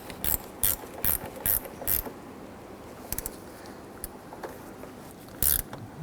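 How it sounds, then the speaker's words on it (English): Ratchet tightening the battery terminals on a 1997-2006 Jeep Wrangler, several quick close bursts of clicking pawl strokes separated by short pauses. "Pop the terminals on here and tighten them down."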